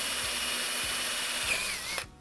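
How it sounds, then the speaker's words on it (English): A power drill boring an oil feed hole in a Mini Cooper S rocker gear, with a steady high whine that runs loud and close for about two seconds before cutting off abruptly. "So what I'm literally doing is I'm just drilling that hole"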